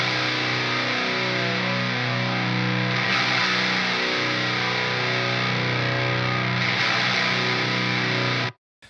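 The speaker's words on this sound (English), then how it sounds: "both these guitar tracks in stereo sounds like this." Two heavily distorted electric guitar tracks in stereo, run through a Darkglass Alpha·Omega 900 bass preamp with a noise gate, chug out sustained chords loud and dense, with a couple of accented re-strikes, before cutting off abruptly.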